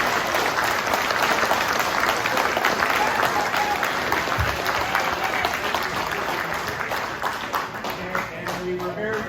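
An outdoor crowd at the Gopher Dunes riding event claps for Lawrence Hacking, a sustained, busy round of applause with a few voices and cheers mixed in, easing slightly toward the end.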